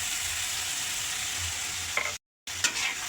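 Tomatoes tipped into spice paste frying in oil for a fish bhuna, giving a steady, close hiss of sizzling with faint stirring scrapes and a brief dead-silent gap partway through.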